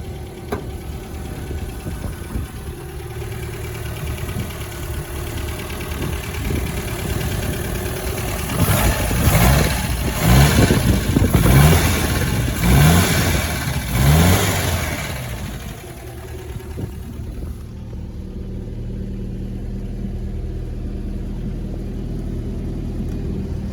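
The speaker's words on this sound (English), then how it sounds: "an absolutely sweetheart of an engine here, purring" A restored 1952 MG TD roadster engine idles smoothly close by, rises through a few quick revs in the middle, then settles back to a quiet, steady idle.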